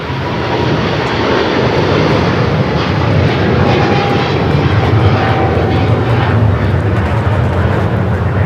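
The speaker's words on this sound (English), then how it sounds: "This is Philippine Airlines 113 taking off to Manila on the 777-300ER." Philippine Airlines Boeing 777-300ER jet taking off at LAX, a loud, steady full-power engine roar that holds close and constant throughout, with a faint whine riding above the broad rumble.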